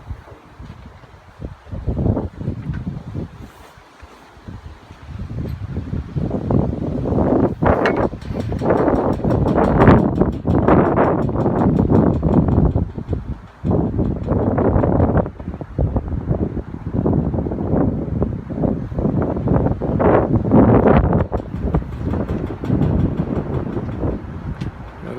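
A Quantum2020 vertical-axis wind turbine spins in open wind, giving a continuous whooshing rumble with gusty buffeting and rising and falling surges throughout.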